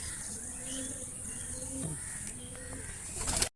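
Pigeons in a loft during vaccination, with low cooing calls that repeat faintly through steady background noise, and a brief handling rustle near the end.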